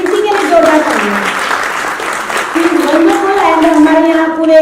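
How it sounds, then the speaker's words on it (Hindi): Loud, sustained applause from an audience at a Jaipur charity trust's national awards ceremony runs throughout, with music playing over the clapping. "एक बार प्रीति के लिए जोरदार तालियां।"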